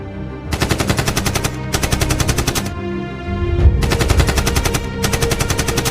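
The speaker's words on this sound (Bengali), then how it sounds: "গুলির শব্দ।" Loud, sustained machine-gun fire used as a sound effect in a narrated horror story, with long rapid rattling volleys broken by short pauses and a low rumble underneath.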